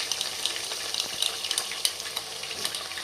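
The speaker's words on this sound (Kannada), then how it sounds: "ಇದನ್ನ ಇವಾಗ ಚೆನ್ನಾಗಿ ಫ್ರೈ ಮಾಡ್ಕೊಂಡು ತಗೊಂಡ್ಬರೋಣ. ಹಸಿ ವಾಸನೆ ಹೋಗೋವರೆಗೂ ಫ್ರೈ ಮಾಡ್ಕೊಂಡ್ಬರೋಣ." Ginger garlic paste frying in a pan for Ambur biryani, a close, steady sizzle with frequent crackles and small scraping stir sounds throughout.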